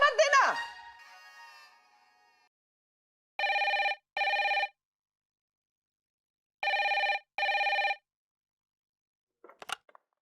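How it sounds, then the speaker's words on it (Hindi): A telephone rings in two pairs of short electronic double-bursts separated by silence, loud and close, after a brief voice at the start and faint sounds near the end. "पता नहीं कौन बार बार फोन कर रहा है।"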